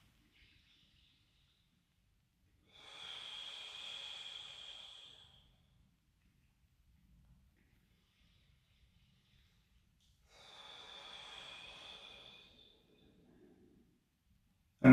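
A qigong practitioner breathes slowly through the nose in a quiet room, two long, soft, airy breaths several seconds apart, close and gentle with silence between them.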